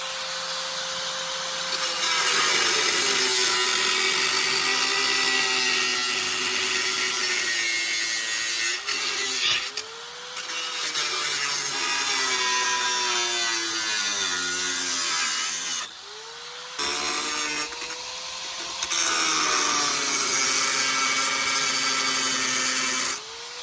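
A saw cuts metal on a vehicle during a shock installation, with steady shallow back-and-forth strokes in long loud runs and brief pauses between them.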